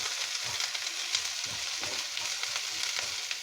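Onion, a sprig of curry leaves and a small piece of ginger sauté in a pan with a steady close sizzle and occasional soft stirring bumps, without speech.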